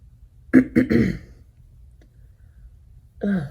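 Someone clears their throat in a few quick, harsh bursts up close, then a pause before another brief throaty sound.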